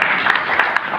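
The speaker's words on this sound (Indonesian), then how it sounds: "Tepuk tangan buat Kang Awon." Applause from an audience for Kang Awon at a public gathering in Purwakarta, a dense, steady wash of many hands clapping with a few sharper claps standing out.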